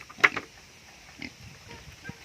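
Moo Deng, a pet pig, gives a few short grunts and oinks at close range, separated by quiet gaps, with faint rustling in the background.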